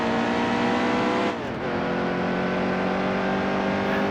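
A car engine in a video game drones loudly and steadily at high revs, with a brief dip and recovery as the pitch shifts mid-way, then a constant heavy hum carrying on without any voices.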